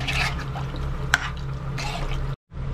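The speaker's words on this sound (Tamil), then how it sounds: "தண்ணி சேர்த்துக்கிறேன் நான்." Water is poured into a simmering mutton head gravy, giving brief splashy pouring and dripping bursts over a steady low kitchen hum, with a short silent gap near the end.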